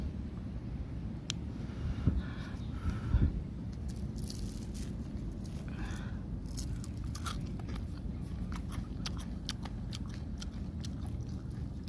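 Someone eating grilled fish caught from a rice field, close soft chewing and a few crunchy bites over quiet outdoor background noise.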